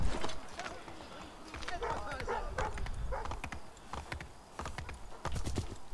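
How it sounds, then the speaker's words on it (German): Horse hooves clip-clop in a steady rhythm of hollow knocks in the video game Assassin's Creed 3, with a voice talking over them throughout. "So, mein Pferde-Gerhard ist hier."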